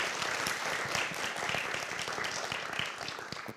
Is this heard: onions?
no